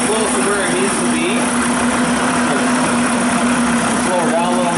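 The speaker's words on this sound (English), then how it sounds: "you can see that the engine's still idling" A small engine idling steadily after a carburetor rebuild, with the idle mixture screw set near correct: an even, loud, continuous drone with a steady low hum, running alone without pauses.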